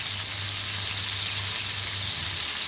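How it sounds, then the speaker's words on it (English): Goan-style crabs fry in a pan over a medium flame, giving a steady, close sizzling hiss with a low hum running underneath. "तशेंच आम्ही क्रॅबाक भाजूंक जाय."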